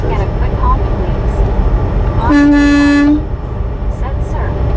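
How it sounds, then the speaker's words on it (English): A truck horn honks once in a long, steady blast lasting about a second, loud and close, with road and cab noise and a person talking before and after it. "a quick honk please?"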